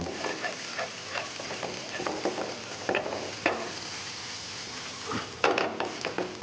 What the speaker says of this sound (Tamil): பொடியாக நறுக்கி வச்சுருக்கிற இஞ்சி இதையும் இதோட போட்டு வதக்கிடுங்க